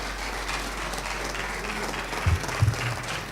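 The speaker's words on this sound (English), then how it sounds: "please let us give Professor Bamiro a big round of applause" Audience applause for Professor Bamiro at an engineering symposium on economic development, a steady, dense wash of many hands clapping throughout with a couple of low thumps near the end.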